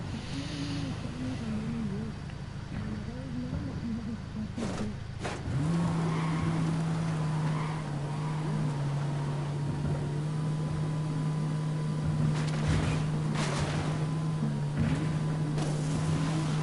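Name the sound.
car engine straining in Ghost Recon Wildlands video game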